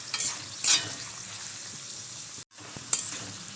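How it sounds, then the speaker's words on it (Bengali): Onions frying in a generous amount of hot oil in a wok give a steady close sizzle with soft stirring bursts, cut briefly by a short silent gap before the sizzle resumes. "একটু বেশি পরিমাণ তেল দিয়ে 4 থেকে 5টা মিনিট পেঁয়াজ দিয়েছি। তো পেঁয়াজটা আমি এবার লালি করে ভেজে নেবো।"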